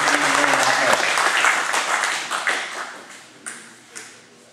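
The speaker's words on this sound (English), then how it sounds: "Let's give him a round of applause" Applause at an auto racing hall of fame induction ceremony: a crowd claps briskly, then the clapping thins to a few scattered claps and taps as voices carry on in the room.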